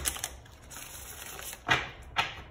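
Tarot cards shuffled by hand, with soft rustling and then two sharp, close riffling bursts about half a second apart, heard alone without speech.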